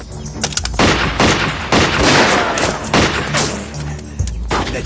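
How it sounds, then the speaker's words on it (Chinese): Rapid bursts of gunfire crack loudly in an anti-Japanese wartime kung fu action film, dense volleys repeating across the whole stretch with faint shouting underneath. "那边有枪声"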